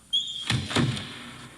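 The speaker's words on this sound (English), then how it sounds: "When the door closed behind him, he was plunged into darkness." A door swings shut with a soft thud followed by a second knock and a brief rattle, close by in a quiet room.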